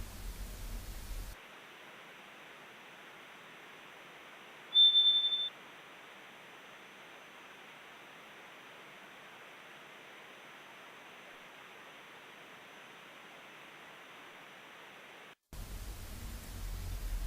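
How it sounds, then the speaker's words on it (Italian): A traditional radio receiver picking up a meteor echo gives a long, even static hiss, cut in sharply and ending abruptly, with one short high ping partway through and no speech. "quando riceviamo l'eco del segnale, si ascolta un sibilo, appunto la parte audio, che è con questo ricevitore tradizionale"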